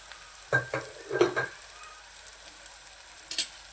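Spinach bhaji with onion and salt being stirred in a frying pan, a few close scraping stirs over a soft sizzle, then a quieter stretch with one final stir.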